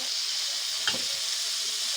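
Vegetables dropped into a pan of hot spiced curry, giving a steady loud sizzle with a brief burst as they hit the oil, no voices.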